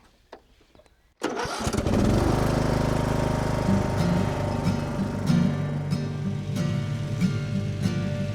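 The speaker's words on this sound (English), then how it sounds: "I've got grass cutting to do." A petrol lawn mower pulls to a start after a short quiet moment, then runs loud and steady close by through the rest, ready for cutting grass at an Irish cottage in spring.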